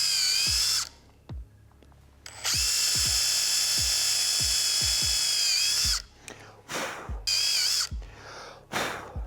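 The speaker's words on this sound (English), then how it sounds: "I'm just gonna place the stealth jib here on the piece of wood and drive some holes in it." A power drill bores pilot holes into a wood block, whining in long loud bursts between pauses, with ratcheting clicks and handling knocks.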